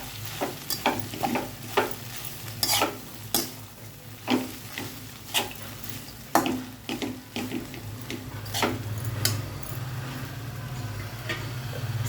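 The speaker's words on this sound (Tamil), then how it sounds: "கொத்தமல்லி இலை போட்டு இதை வந்து மிக்ஸ் பண்ணிடணும்" Coriander leaves are mixed into poha (flattened rice) in a pan with repeated spatula strokes, each a distinct scrape or tap against the metal over a faint, steady background hiss.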